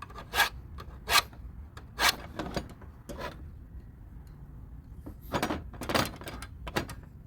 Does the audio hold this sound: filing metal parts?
yes